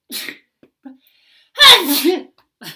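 A single sharp sneeze bursts out loudly between stretches of nearby talking, with a short breathy intake before it.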